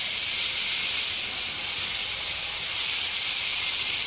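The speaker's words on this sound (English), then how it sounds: "Now let's spread out our shrimp so we can fry up really nicely" Shrimp frying in hot oil in a pan give off a steady, loud, bright sizzle that hisses evenly without a break, close up and with no talking over it.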